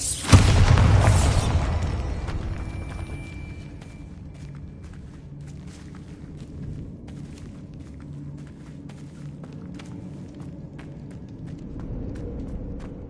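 A Bombarda blast spell in the Hogwarts Legacy video game goes off loudly in a single burst, then a low rumble and light footsteps carry on under it.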